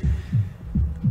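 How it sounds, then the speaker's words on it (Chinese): A heartbeat sound effect thumps in a slow, steady double-beat rhythm, deep and close, with no other sounds around it. "为什么心跳这么快？"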